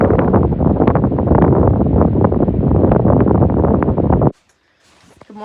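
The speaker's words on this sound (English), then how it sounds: "these 30-mile-an-hour gusts are insane. You can like hear them coming across the trees." Strong, roaring 30 mph wind gusts rush through trees, loud and continuous, then cut off abruptly into near silence.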